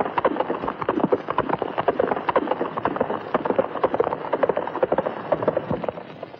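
A horse's hooves clip-clop in a quick, steady rhythm, close and fairly loud, on an old black-and-white Marathi film soundtrack, the clatter continuing without pause.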